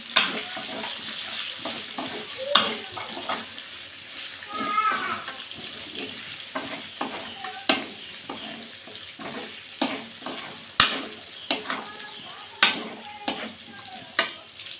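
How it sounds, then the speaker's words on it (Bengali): Potatoes added to fried meat in a pan for a spiced kosha curry, giving a continuous sizzle with repeated stirring scrapes and knocks. Faint water-like splashing in the background. No clear speech. "দেখ এবার আলুগুলো দিয়ে দেব।"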